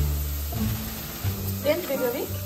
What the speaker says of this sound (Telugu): ఇంకా బ్రౌన్ అవ్వాలి, బాగా వేయించుకోవాలి మీకు.